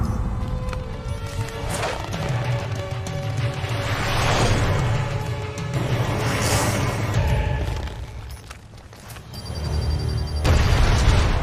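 Deep booming blasts and rumbling crashes from bomb explosions in the video game Marvel Ultimate Alliance 2 roll through in heavy waves. They swell and fade, with a final loud burst at the end.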